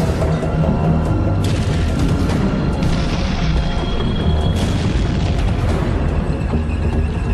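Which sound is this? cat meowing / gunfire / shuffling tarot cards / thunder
gunfire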